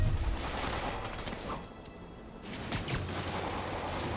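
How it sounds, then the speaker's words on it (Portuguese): Gunfire aimed at Spider-Man in the Spider-Man PS4 game, a dense fusillade of rapid shots at steady moderate loudness across the whole stretch, with a few heavier bursts near the start and toward the end. "Os bichos ainda estão atirando no Spider-Man."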